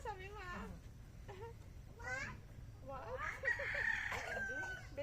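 A backyard rooster crows with a long wavering call, joined by other squawking fowl and what may be a cat's meow, all close and fairly loud over a steady low rumble of background noise.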